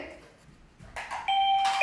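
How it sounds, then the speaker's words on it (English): A dog presses a doorbell, which rings out in a bright electronic chime of sustained tones near the end after a soft bump. "he just got the doorbell."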